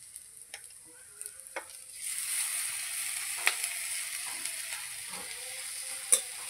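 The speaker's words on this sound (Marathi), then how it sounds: "बघा मित्रांनो, कांदा भाजायला लागला." Onion sizzling and frying in a pan for a homestyle egg curry, with a steady hiss that swells after a couple of seconds and scattered stirring clicks and scrapes.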